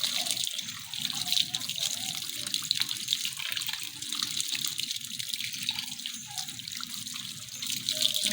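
Water runs from a tap or hose to rinse mud off gumboots outdoors in the countryside on a rainy day, a steady close splashing gush that continues throughout with slight fluctuations.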